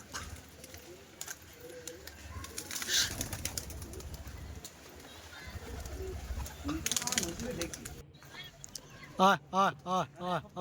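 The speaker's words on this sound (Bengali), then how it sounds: "বাইরে পায়রা দেখো, পায়রা উঠছে আরও" Pigeons call outdoors over a busy background, with a run of close, rhythmic, throaty coos pulsing clearly in the last couple of seconds.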